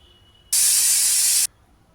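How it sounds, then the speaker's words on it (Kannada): A pressure cooker cooking pulao releases a single sudden burst of steam, a loud, close hiss that lasts about a second and then cuts off into quiet. "ಈಗ ನೋಡಿ 1 ವಿಷಲ್ ಆಗಿದೆ, ಆವಿ ಎಲ್ಲ ಬಿಟ್ಟಿದೆ."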